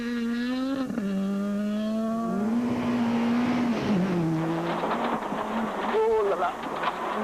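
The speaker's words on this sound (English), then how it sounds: "Ultimate Polo of Enzo Keane and Guy Hodgson, the first car to fly over the fast rally roads" A VW Polo rally car driving fast on a gravel rally stage in the Gauteng Rally, its engine note climbing and dropping through gear changes, loud and close with a steady roar throughout.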